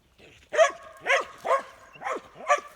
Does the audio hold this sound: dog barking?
yes